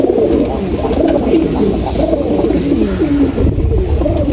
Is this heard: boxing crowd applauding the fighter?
no